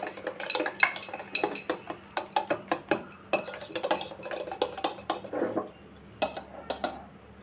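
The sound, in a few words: stirring boondi batter in a bowl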